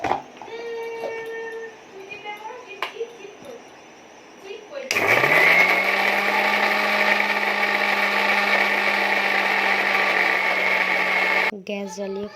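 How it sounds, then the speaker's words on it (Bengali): Kitchen mixer grinder whirring steadily as it grinds black mustard seeds, poppy seeds, green chillies, salt and water into a paste, a loud sustained motor drone that starts abruptly after some quiet handling and talk, then cuts off. "চলো মিক্সারে একটা মশলা বানিয়ে নিই।"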